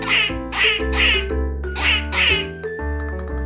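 A duck quacks five times in quick bursts, loud and close, set over a steady musical backing.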